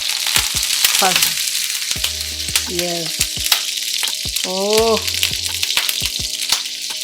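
Butter sizzles and fries steadily and loudly in a hot pan for grilled pineapple, with a continuous close crackle and a voice briefly speaking over it.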